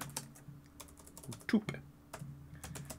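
Keys clack on a computer keyboard during a coding tutorial, light irregular taps in short bursts at close range, with a voice partly heard over them.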